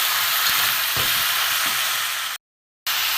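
Chicken fries with turmeric, coriander and cumin powder in a loud, close, continuous sizzle, broken by a few soft stirring scrapes and a brief total cutout near the end.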